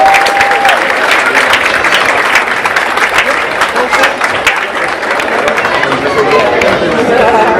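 A large audience at a Saba Day ceremony applauds a youth steel pan band: loud, sustained, dense clapping with scattered cheers and crowd voices throughout.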